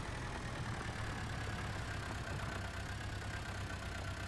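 A tractor engine pulling a plow in the video game Farming Simulator 19 drones steadily, a continuous mid-to-low mechanical hum with no breaks, moderately loud and alone.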